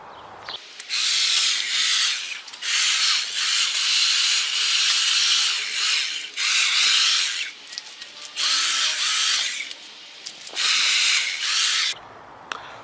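A hedge trimmer snips small stray pieces along the top of a hedge. It runs in loud, hissing bursts of a second or two, separated by short pauses. No one speaks.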